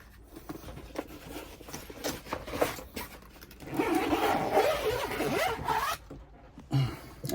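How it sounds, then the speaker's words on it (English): Blackout curtains zipped shut inside a Winnebago Solis 59P camper van, a steady run of close zipper rasps lasting several seconds with short pauses between pulls. "you will just zip up these blackout curtains, this side as well"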